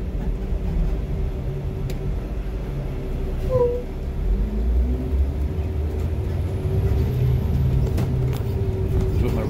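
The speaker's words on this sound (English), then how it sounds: "40-foot Bluebird Transit CNG bus." A 40-foot Bluebird Transit CNG school bus with a rear engine runs steadily, giving a continuous low rumble close by with no talk over it.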